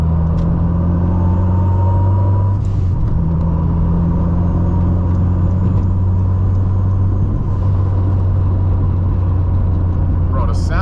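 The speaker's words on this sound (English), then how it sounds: "the sounds this car make, the turbo, the wastegate, the gears, the car just sounds amazing" A turbocharged 600 HP Honda Civic Si drives on a busy street, its engine giving a steady, loud low drone with a smooth rising tone. A short hissy burst comes near the end.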